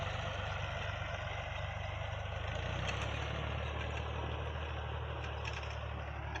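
A tractor engine idles steadily in a wheat field, a low, even drone at moderate distance with a slight change in pitch partway through, no talk.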